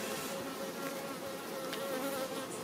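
Steady, dense buzzing of many honeybees close by around a hive holding a queen, a continuous droning hum with no pauses and no voices.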